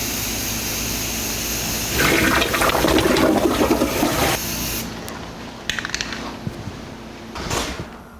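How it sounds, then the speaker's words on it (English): A spray gun hisses out a coat of finish onto the rock slider trim of a 1984 Jeep CJ7, a loud, steady burst of about two and a half seconds, then shorter clicks and handling noises. "I always spray a little bit before I go on, because you never know what's going to happen when it comes out."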